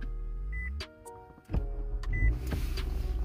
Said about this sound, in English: I'm gonna even turn on the car right now